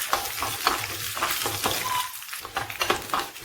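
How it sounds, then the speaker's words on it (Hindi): Red chillies, urad dal and chana dal roast in hot oil in a pan for a tempering, giving a bright continuous sizzle broken by quick scraping stirs, with no talking. "1 चम्मच उड़द की दाल, 1 चम्मच चने की दाल। इन सब चीजों को मैं अच्छी तरह से भून लूंगी।"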